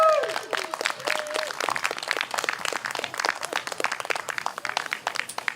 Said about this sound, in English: That's the most applause we've got before we played